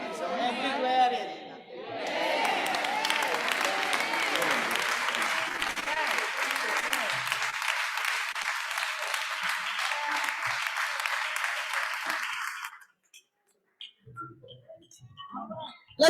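Audience at a Southern States church assembly session breaks into loud, sustained applause and cheering for about twelve seconds, a dense wash of clapping that cuts off abruptly, leaving scattered faint room noise.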